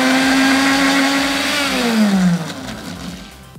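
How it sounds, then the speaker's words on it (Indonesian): An electric kitchen blender grinding roasted coconut, a loud high motor whine that drops in pitch as the paste thickens, then the motor winds down and fades. "Biar tidak capek numbuk, kelapa gongsengnya saya blender aja."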